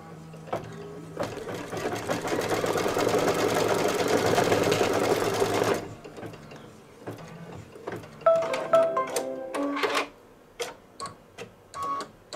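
An embroidery machine stitches lettering onto an oven mitt potholder with a loud, steady, rapid mechanical whir for several seconds, then drops to sparse clicks and short bursts of stitching.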